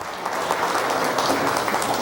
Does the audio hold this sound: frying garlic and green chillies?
no